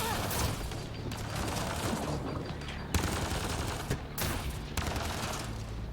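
Enemy gunfire in the video game Mass Effect Andromeda: sustained rapid bursts of shots and impacts, loud and dense throughout, with a few sharper cracks standing out in the barrage.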